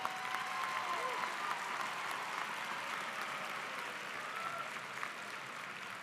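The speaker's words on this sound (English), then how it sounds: "You can applause now for that." A high school commencement crowd applauds honor graduates, a steady, fairly loud wash of clapping that holds evenly throughout, with faint voices underneath.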